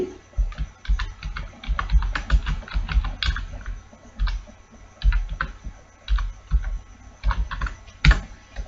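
Input for a C program is typed rapidly on a computer keyboard, up close and loud, in irregular clusters of clicking keystrokes with brief pauses between bursts.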